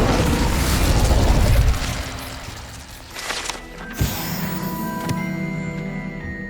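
Fire spell cast in the Hogwarts Legacy video game: a loud whooshing burst of flame that fades into a pop and a few ringing game effects.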